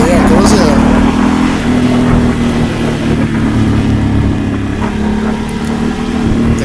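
A Ducati motorcycle pulls away on a road with a steady, loud engine drone that rises slightly in pitch, heard up close under continuous talking.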